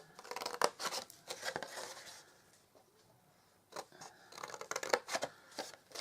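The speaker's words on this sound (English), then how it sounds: "I'm going to cut up the bottom right score line up to the first horizontal." Scissors cut through card along a score line for a handmade embossed gift box, giving a run of crisp close snips and crunches in two bursts with a short pause between.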